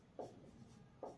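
Chalk or marker strokes on a classroom board as a teacher writes during a history lesson: two short, faint scratchy strokes about a second apart, with no talk over them.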